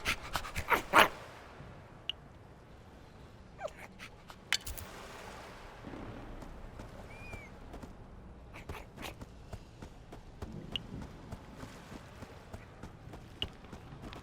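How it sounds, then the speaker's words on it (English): A dog in the Minecraft: Story Mode video game pants and whimpers in soft bursts amid light footsteps and scattered clicks, fairly quiet throughout with no talk. "Who's a good dog?"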